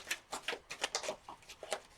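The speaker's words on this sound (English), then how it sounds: "One more shuffle." Playing cards shuffled by hand during a tarot reading, giving a series of quick, crisp riffling and flicking bursts at a steady, close pace with no talking.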